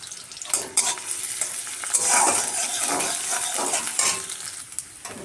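Onions fry in a pan with a steady sizzle while a spoon stirs and scrapes through them in several close, uneven bursts.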